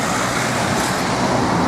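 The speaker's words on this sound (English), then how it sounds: "big bus going past" A big bus passes on a road by a pub near an old railway bridge in Denbigh, a loud continuous broadband engine and tyre roar that fills the whole moment close by.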